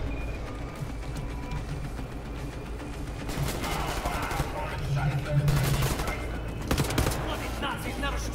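Gunfire in Wolfenstein: The New Order, with dense bursts and sharp shots that build after a few seconds over a steady game rumble, loud and close, with a voice talking over parts of it.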